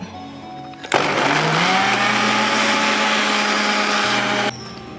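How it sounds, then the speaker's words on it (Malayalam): A mixer grinder whirs at full speed for about four seconds, blending Thai green curry paste with added olive oil for a prawn curry, starting abruptly and cutting off just as sharply. "നമുക്കിനി കുറച്ച് ഒലിവ് ഓയിൽ ചേർത്തിട്ട് ഒന്നുകൂടി അരച്ചു കൊടുക്കാം"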